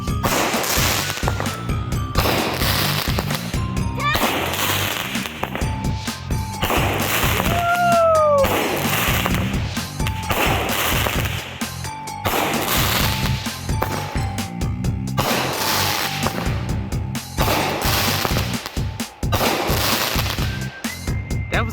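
Fireworks artillery shells at an outdoor Juneteenth celebration, a string of loud sharp bursts repeating roughly every two seconds, each a crackling explosion with a brief whistle among them, heard nearby.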